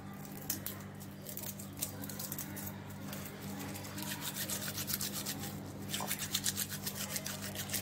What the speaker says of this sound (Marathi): नुसतं चोळलं तरी सालं अशी निघून जातात कारण लसूण आपण ऑलरेडी भाजून घेतलेला आहे